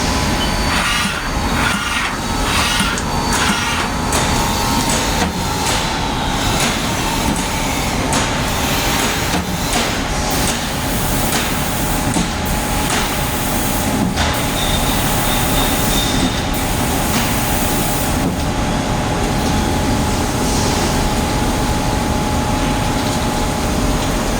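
A 2008 Haas SL-30TB CNC lathe runs a program with its spindle at 2400 RPM. It gives a steady, dense machine roar with a faint whine that holds evenly for the whole stretch, and no one speaks.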